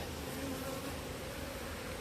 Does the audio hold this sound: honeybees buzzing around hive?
yes